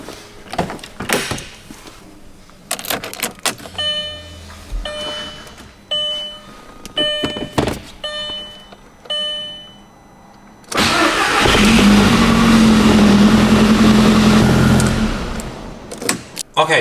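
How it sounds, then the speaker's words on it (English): A few clicks and door clunks with short bursts of activity, then a Volkswagen GTI Mk4 or Audi S3 engine cranks and catches, settling into a loud, steady idle. "We're going to go ahead and start the car up for a little bit"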